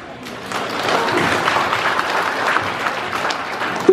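An audience at a college welcome ceremony claps for parents, starting softly and swelling into a sustained, steady round of applause that holds at moderate loudness to the end.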